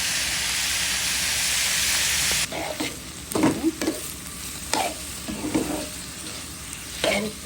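Bitter gourd fries in a pan with a steady loud sizzle that cuts off, then scraping stirs come in irregular strokes over a softer hiss.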